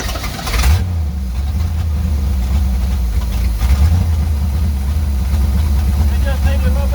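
A 1972 C30 truck that sat abandoned on a farm for 15 years cranks and catches, its engine settling into a loud, steady low rumble close by with a brief surge partway through, while a person talks over it.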